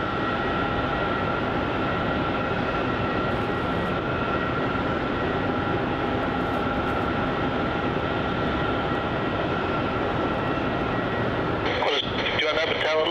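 A Virgin Australia Boeing 737-800 on flight 820 from Sydney lands at Melbourne Airport with a loud, steady engine roar that holds for the whole stretch, and a rougher rumble comes in near the end.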